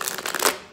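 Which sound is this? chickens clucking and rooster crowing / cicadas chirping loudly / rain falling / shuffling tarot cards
shuffling tarot cards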